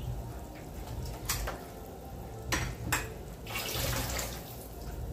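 Sweet potato and cabbage tumbling into a pot of boiling pork nilaga broth in a home kitchen, a few distinct splashy clatters and thuds over a steady low bubbling hiss, fairly close, with no talk.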